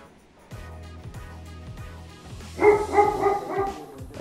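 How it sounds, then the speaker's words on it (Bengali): Several dogs bark repeatedly outdoors in an evening neighborhood, a steady run of deep woofs followed by louder, higher yapping barks from closer by, with no talk over them. "এ পাশে কিছু কুকুর আছে"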